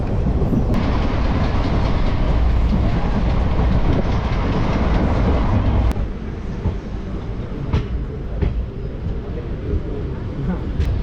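A passenger train runs on the rails between Tripura and Assam, a steady loud rumble with wheel clatter throughout and a few sharp clicks and bangs, dropping slightly after a jolt midway.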